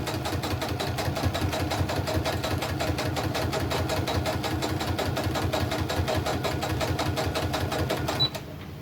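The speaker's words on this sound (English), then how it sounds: "So I'm gonna go ahead and go back and add another seam, just that little bit in" A sewing machine runs steadily, stitching an extra anchoring seam across a crazy crumb quilt block, its fast rhythmic needle chatter loud and close before it stops abruptly near the end.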